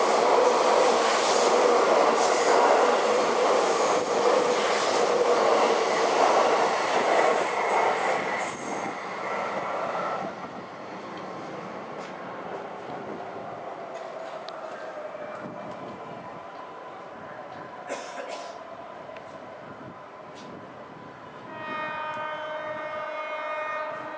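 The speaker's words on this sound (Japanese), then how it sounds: "3番線、4番線とも特急列車が通過。" JR East Class 651 limited express trains pass through a station on tracks 3 and 4, a loud broadband rush of wheels and cars that fades after about ten seconds, followed by quieter station ambience and a chime-like tone near the end.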